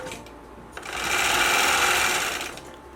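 A sewing machine stitches along the border of a whole-cloth quilt, starting with a brief click and then running in a fast steady whir for about two seconds before slowing down.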